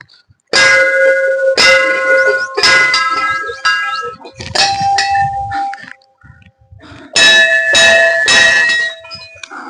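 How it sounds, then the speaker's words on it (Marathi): Several loud metallic strikes of a temple bell ring out in irregular succession, each leaving a bright sustained ringing tone that decays between hits. "बघा घंटा अतिशय छान घंटा आहे त्या ठिकाणी आपण देवाला जाग करूया"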